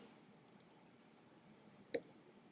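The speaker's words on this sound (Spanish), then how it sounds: "lo único que tengo que hacer es doble clic aquí" Two quick computer mouse clicks in a double-click pattern, crisp and faint against a quiet room background, followed shortly after by another single click.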